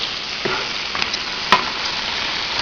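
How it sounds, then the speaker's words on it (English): Marinated mushrooms sizzle in a hot pan as they get a quick stir, a constant close frying hiss broken by a few soft scraping clicks, with no one talking. "Give them a little stir"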